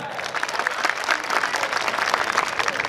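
Enthusiastic applause from a crowd at a political event, dense steady clapping throughout with no pauses.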